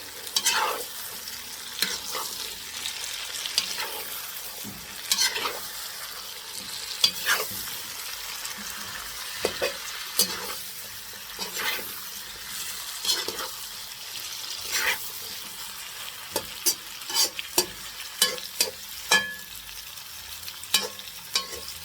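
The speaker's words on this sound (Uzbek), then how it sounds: "Keyin bular yaxshilab aralashtirib olamiz." Meat and chopped onions frying in a pot for plov, a soft continuous sizzle broken by frequent sharp scrapes and knocks of a utensil stirring against the metal.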